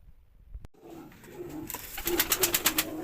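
Pigeons coo softly in a coop in a rhythmic series, with faint rustling and a brief knock before the calls grow louder.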